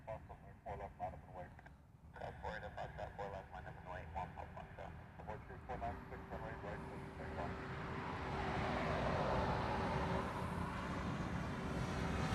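A large truck rumbles past near an airport apron, its broadband roar swelling over the last few seconds and staying loud, with people talking and other engine noise underneath in the first half.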